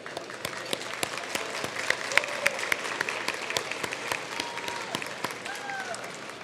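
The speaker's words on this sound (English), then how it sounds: "so let's give a round of applause." Scattered, moderately loud applause from an audience at an awards celebration greets winners stepping onto a stage, with distinct individual claps and faint murmuring voices underneath.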